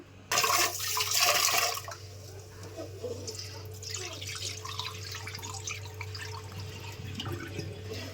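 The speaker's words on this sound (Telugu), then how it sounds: "వీటిని శుభ్రంగా కడుక్కొని ముందు నానబెట్టుకోవాలండి" Rice and moong dal are washed in water: a brief gush of pouring opens, then gentle sloshing, swirling and dripping continue close by.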